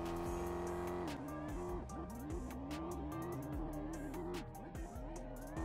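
A car races on a desert course in the Vehicle Legends video game, its engine note rising and dropping through gear changes and revs with bursts of tire squeal, steady and loud throughout.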